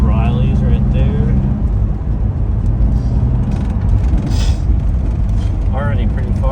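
A Dacia Duster drives along a road with a loud, steady engine and tyre rumble that continues throughout, while a person talks over it.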